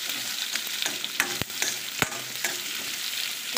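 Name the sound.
onions and chopped vegetables frying in hot oil for kadai paneer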